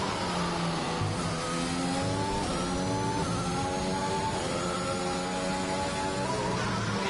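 An F1 race car engine from the F1 2021 video game screams on a flying lap on soft tyres, a steady high-revving whine that climbs and drops through gear changes, loud and continuous throughout.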